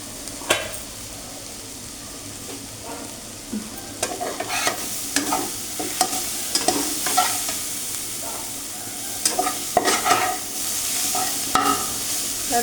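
Radish greens (mulo shak) fry over a low flame in a pan with a steady soft sizzle, broken by scattered clinks and scrapes of stirring close by.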